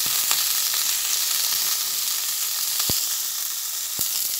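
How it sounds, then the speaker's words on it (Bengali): Cauliflower florets frying with turmeric in a pan, giving a steady, close hiss of sizzling oil with a few sharp clicks of stirring, and no voices. "আবার একটু ভালোভাবে নাড়াচাড়া করে ভেজে নিচ্ছি"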